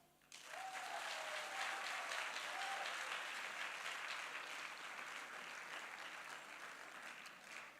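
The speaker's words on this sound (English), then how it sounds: "Another round of applause for him." An audience at a spoken-word performance event breaks into sustained applause that starts abruptly and holds at an even, dense level, with cheering mixed in.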